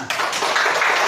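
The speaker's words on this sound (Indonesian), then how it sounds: "kasih tepuk tangan" Short burst of classroom applause for a student completing a vault jump over a box in a school gymnastics lesson, a steady dense patter of hands from a group lasting about a second.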